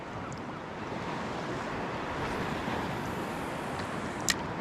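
Waves break steadily over a shallow reef, making a continuous wash of white-water surf mixed with wind noise, with a brief sharp knock near the end.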